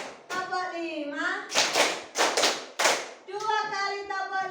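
Children clap their hands in rhythm during a classroom counting game, a few sharp group claps in bursts between a teacher's spoken and sung voice, fairly close in a school room.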